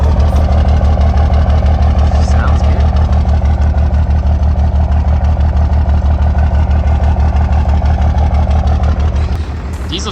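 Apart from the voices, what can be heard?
1993 Dodge W350 diesel truck engine idling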